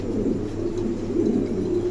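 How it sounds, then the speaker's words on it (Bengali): Pair of silver pigeons, one a male, giving soft low repeated cooing close by against a steady background hum. "দর্শক এখানে দেখেন আর এক জোড়া কবুতর, খুবই মেলটা সিলভার কালার"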